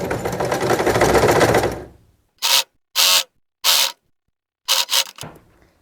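A sewing machine stitches a zipper into a draped skirt, first whirring in a long continuous run that fades out, then firing several short separate bursts with pauses between them.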